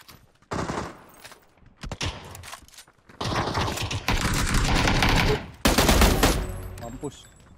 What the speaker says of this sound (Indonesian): Dengar senjata.